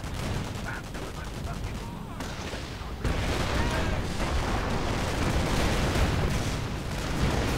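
Rockets and gunfire crackle through a WWII strategy video game battle between Allied and German forces, a dense stream of distant shots and blasts that thickens and grows louder partway through.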